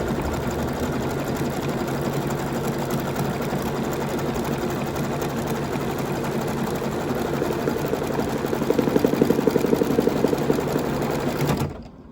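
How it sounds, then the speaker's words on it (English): An embroidery sewing machine stitching a seam line on a rolled towel topper, a steady rapid mechanical whir that runs loud and unbroken for about eleven seconds before stopping abruptly. "now I can stitch the seam line"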